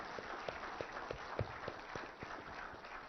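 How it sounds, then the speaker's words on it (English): A large audience at an IT industry event in Hyderabad applauds with steady, dense clapping that holds evenly for several seconds without any speech. "my entire team deserves a huge round of applause"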